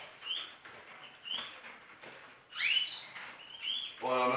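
Pet canaries chirp in short, bright bursts scattered across a quiet room, with a louder flurry of calls partway through and a busier patch of chirping at the end.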